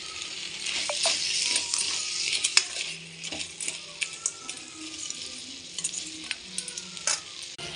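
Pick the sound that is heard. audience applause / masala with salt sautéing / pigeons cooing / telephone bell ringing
masala with salt sautéing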